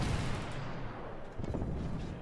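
Naval gunfire in the World of Warships game, dense booming blasts and rumbling barrage filling the whole stretch, loud and continuous.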